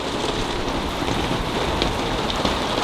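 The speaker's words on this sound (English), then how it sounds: "Rain is just coming in from everywhere." Heavy rain pours steadily onto a roof during a downpour, a dense, continuous hiss and patter that stays loud and even throughout with no voices.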